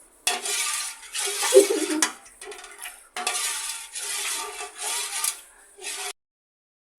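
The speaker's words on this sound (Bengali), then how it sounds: "এখন এই স্যুপটা নাড়াচাড়ার মধ্যে রাখতে হবে। যদি আমি নাড়া না দিই তাহলে তল দিয়ে লেগে যাবে।" Egg soup is stirred in a pot, with a spoon rubbing and scraping the bottom in close, rhythmic bursts of strokes broken by brief pauses, ending in silence.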